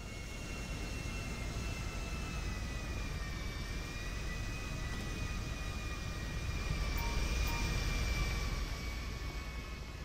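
A jet fighter's engine roars steadily in GTA V, a loud, continuous turbine drone with a high whine laid over it, swelling slightly toward the end.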